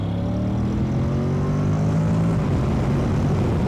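A Honda NC750X motorbike accelerates from about 30 km/h, its engine note close and loud, rising steadily in pitch through the gear.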